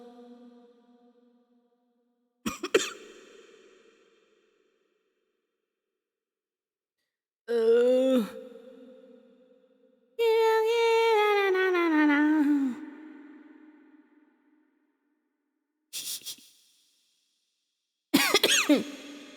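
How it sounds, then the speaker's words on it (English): A person in a cold room coughs several times in separate short bursts, close and fairly loud, with quiet gaps between them. "started coughing now."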